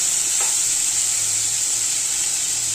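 Two spoonfuls of misal masala hitting hot oil in a pan, a loud steady close sizzle with a brief stir clink near the start, no voices.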